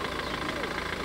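A German Mercedes car engine runs at a steady idle, a continuous close mechanical hum and rumble with a faint knocking texture throughout the short stretch.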